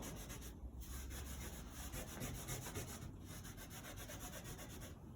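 Pencil lines being rubbed out with an eraser on a drawn design layout, a steady continuous scrubbing rub running the whole time, close and fairly loud, with brief pauses in the strokes and no talking.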